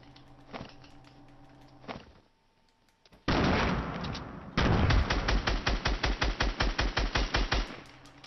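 Gunfire in the Fortnite Battle Royale video game: a few isolated shots, a short quiet pause, then a loud dense burst followed by a rapid, evenly spaced string of sharp shots, close and loud, with no voices.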